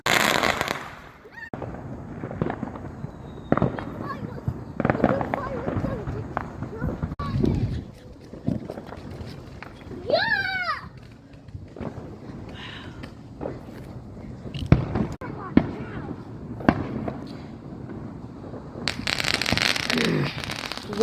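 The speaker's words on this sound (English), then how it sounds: "I'm gonna show you guys the fireworks" Fourth of July fireworks burst in a series of sharp, irregular booms and crackles, some close and loud, with people talking and exclaiming between the blasts.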